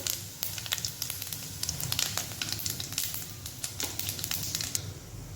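Cumin seeds splutter in hot oil in a kadai, giving a continuous sizzle dotted with rapid sharp crackles and pops close by, with no voices.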